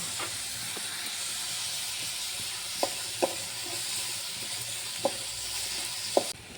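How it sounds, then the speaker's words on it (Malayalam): Onions and salt sautéing in coconut oil give a steady broadband sizzle throughout, with a few sharp stirring clicks standing out above the hiss; no voices. "ഇനി ആവശ്യത്തിനുള്ള വെളിച്ചെണ്ണ ഒഴുക്കി അതിലേക്ക് ഉള്ളിയും കുറച്ച് ഉപ്പും ചേർത്തിട്ട് നന്നായിട്ടൊന്ന് വഴറ്റിയെടുക്കുക"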